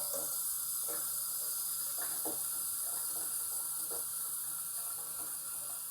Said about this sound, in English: Like listening to the water go down through there.